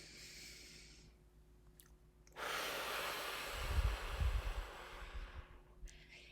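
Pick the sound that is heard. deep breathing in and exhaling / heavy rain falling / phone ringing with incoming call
deep breathing in and exhaling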